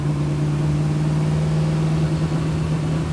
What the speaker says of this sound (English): We're cruising along about 50 miles per hour right now.